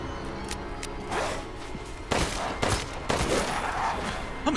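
Gunshots in Resident Evil Village during a mini-boss fight: several loud, sharp reports spaced a second or so apart, the firing growing heavier toward the end over background game noise.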